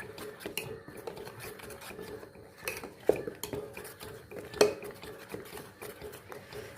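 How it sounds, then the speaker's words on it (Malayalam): A spoon stirs ragi appam batter with salt in a bowl, with repeated close clinks and scrapes against the vessel in an uneven rhythm and two sharper knocks, no voices. "ഇനി ഇതിലേക്ക് ആവശ്യത്തിനുള്ള ഉപ്പും കൂടെ ഇട്ട് നല്ലതുപോലെ ഒന്ന് കലക്കാം"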